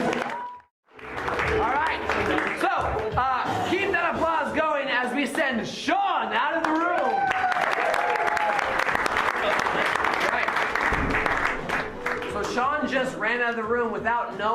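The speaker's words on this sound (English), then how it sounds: "keep that applause going" Applause from an improv theatre audience swells after a brief pause and carries on loud and sustained, with a voice talking over it and cheering rising near the end.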